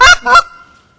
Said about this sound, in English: the greetings are going to be more of clucks